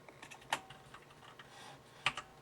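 Keys clack on a computer keyboard in a quiet room, a few light taps scattered across the moment with two sharper, louder strokes standing out, no voices present.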